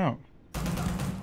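Gunfire in the video game Starfield: a short sharp burst at the start, a brief pause, then a sustained rattle of rapid shots, loud and close.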